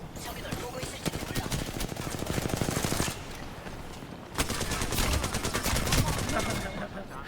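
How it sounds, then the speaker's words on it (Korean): Sustained automatic gunfire in the video game Apex Legends rattles out as rapid continuous bursts with a brief pause midway, loud and dense throughout. "내가 총을 이렇게 쏜다."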